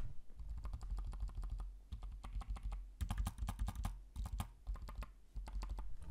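Rapid key presses on a cheap, very quiet budget computer keyboard, close to the microphone, coming in quick irregular runs with short pauses between them.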